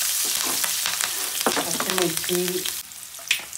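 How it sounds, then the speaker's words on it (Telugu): Mustard seeds, chana dal, urad dal and a few peppercorns spluttering in hot oil for a South Indian tempering, a close crackling sizzle with rapid pops throughout. "ఆవాలు, శనగపప్పు, మినప్పప్పు, కొంచెం మిరియాలు కూడా వేసుకోవాలి. ఓకే, మంచిగా ఎగిపోతున్నాయి కదా."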